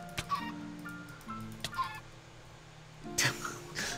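Chickens in a SkyWars video game cluck and squawk in short bursts with brief pauses, followed by a louder flurry near the end.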